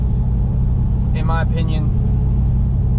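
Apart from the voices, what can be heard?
Silverado 5.3 truck with true dual catback straight pipes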